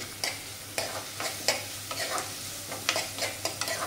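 Chopped onion with cashews, fennel seeds and cumin being stirred and fried in a pan for samosa filling, soft sizzling under a series of distinct scraping stir strokes at an uneven rhythm, no talking.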